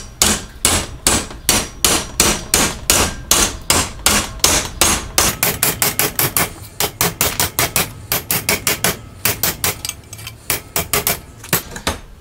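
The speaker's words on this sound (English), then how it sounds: "So probably going to have to finish it off some with a hammer." Steady metal hammer blows on the back of a vise, flattening an aluminium element for a 6-metre Moxon antenna; dozens of sharp, ringing strikes, close and loud, in quick regular rhythm that speeds up halfway through.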